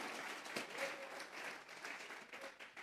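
A church congregation at a Sunday service claps together as an offering to God, a faint, sustained patter of many hands heard from a distance.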